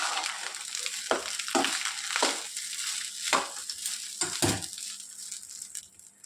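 Leftover cooked rice mixture stirred in a hot pan, a continuous sizzle broken by several scraping, crunching strokes of the spoon against the pan, close and fairly loud.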